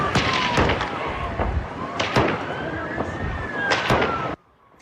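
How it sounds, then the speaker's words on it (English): Several rounds of gunfire ring out over a crowded beach during a mass shooting, sharp loud bangs spaced irregularly through a dense wash of crowd noise, with a siren-like rising tone running under them. "several rounds of gunfire blasting towards a crowd along the beach."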